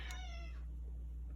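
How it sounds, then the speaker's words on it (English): A cat outdoors gives a single short meow, faint and distant, over a steady low hum. "That was the cat."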